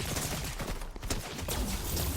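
Gunfire aimed at a boss in the Fortnite video game comes as dense, rapid automatic fire that runs almost the whole time, loud and close, with a brief dip in the middle.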